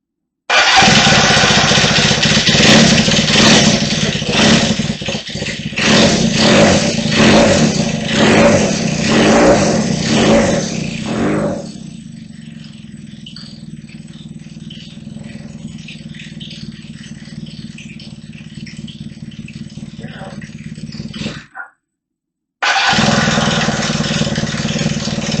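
A Kawasaki KZ400 street tracker cafe racer motorcycle engine fires and runs with loud, pulsing revs, then settles to a quieter steady idle before cutting out briefly and roaring back.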